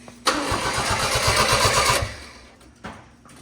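A Honda Acty mini truck with a newly replaced head gasket and clutch cranks and catches on its first startup, the engine sputtering loudly for about two seconds before dying, followed by a short second cranking burst.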